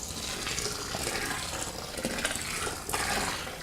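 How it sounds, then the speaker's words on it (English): Boiling water is poured into a home-brewed all-grain mash in a pot on the stove, a continuous close splashing and gurgling pour that runs without a break and with no talking. "just add a little bit of boiling water to this,"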